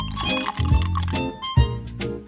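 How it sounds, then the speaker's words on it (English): Watermelon juice pours from a saucepan into a small bowl, a close, soft liquid splash with gurgling bursts around two moments in the short stretch. "In the first, I'll pour watermelon juice."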